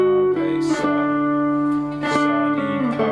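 A guitar plays a descending Raag Hansadhwani scale, several sustained notes stepping down one after another, loud and close, with no voice over it.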